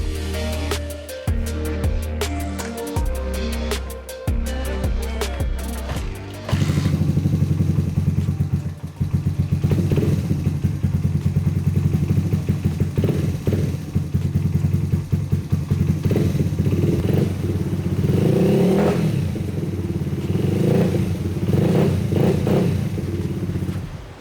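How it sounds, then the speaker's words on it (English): A kick-started motorcycle, recently run out of oil, tried a couple of times with thumps before the engine catches, then settles into a loud, close, steady idle with occasional blips of revving. "So she fired up second kick, which I wasn't really expecting. Seems to run pretty good"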